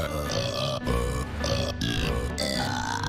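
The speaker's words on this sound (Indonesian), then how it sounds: "si Patrick memainkan sendawa sebagai pertunjukannya guys" Cartoon character Patrick Star performs a show of burping, with a run of loud, drawn-out, croaky belches and grunts broken by short gaps, up close and without talk.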